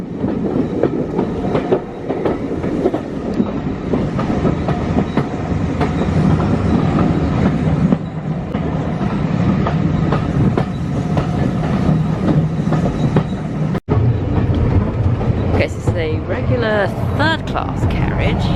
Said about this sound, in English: a nice place to watch the trains go by